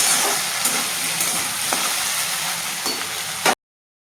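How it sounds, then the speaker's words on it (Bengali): Potatoes fry in hot oil with whole cumin seeds, giving a steady, close sizzle with faint stirring ticks throughout before the sound cuts off abruptly near the end. "গোটা জিরে ফোড়নে দিয়ে তেলের মধ্যে ফোড়ন দিয়েছিলাম, দিয়ে যে আলুটা ভাজছি"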